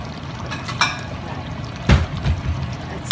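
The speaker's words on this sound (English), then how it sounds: "I'm going to grab a little dish and" Liquid pours and splashes into a small dish in short irregular bursts, close by, over a faint background hiss with no talking, while cooking sausage and meatballs.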